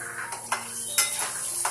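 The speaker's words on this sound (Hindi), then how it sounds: "घी गर्म हो गया है, अब सबसे पहले हम डालेंगे मूंगफली के दाने" Peanuts dropped into hot ghee in a kadhai, with a few scattered clinks and scrapes of a spoon against the pan over a light, steady sizzle.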